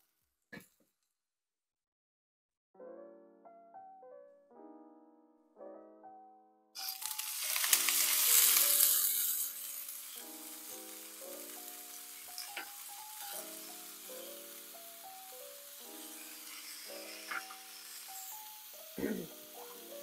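Shallots and broccolini in a hot pan burst into a loud sizzle that settles into steady frying under a talking voice. A few utensil clinks cut through.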